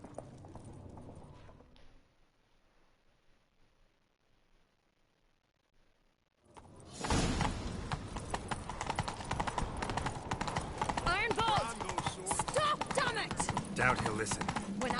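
Horses galloping in a chase in the Witcher 3 video game: after a few quiet seconds, loud rapid hoofbeats burst in and pound on continuously, close and driving, with some clatter mixed in.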